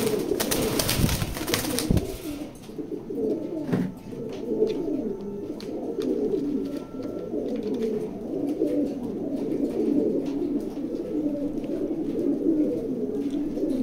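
Red checker pigeons in a loft coo in soft, continuous low murmurs throughout, with a burst of noisy rustling or handling at the start.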